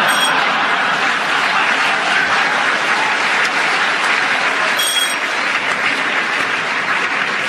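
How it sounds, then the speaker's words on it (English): Studio audience at a panel game show applauding loudly and continuously, with laughter mixed into the steady roar of clapping from start to finish. "that round of applause and constant laughter"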